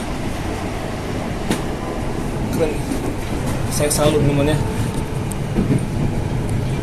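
Inside an electric commuter train carriage on a Jakarta-area line, a steady rumbling roll runs throughout, with faint rattles and clicks, while someone talks excitedly over it.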